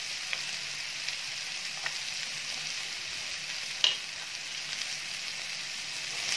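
Carrot pieces dropped into a pan of sizzling oil while making masala Maggi, with a steady close frying hiss, a sharp brief clatter partway through and a few faint stirring knocks.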